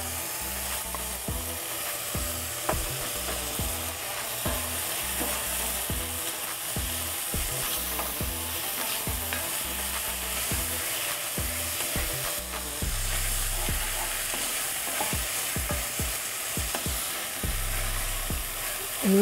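Three chopped Roma tomatoes sizzle in a pan for a red bean curry while a utensil stirs them in steady, repeated scraping strokes, close and continuous over a constant frying hiss, with no talking.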